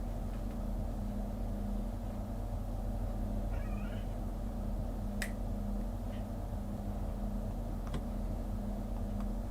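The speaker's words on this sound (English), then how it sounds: "Probably hear the cat again" A cat gives a brief, faint meow, with a couple of other small chirps, over the steady low rumble of a Southeastern high-speed train cab approaching Faversham.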